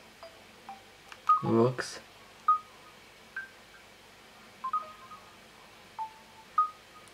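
Keypad tones on a Samsung Delphi phone: a string of short electronic beeps, roughly eight presses at uneven intervals, close and clear, with someone talking briefly partway through.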